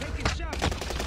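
STG 44 assault rifle fire in a video game, short bursts of rapid shots mixed with other game sounds, with voices talking over the action.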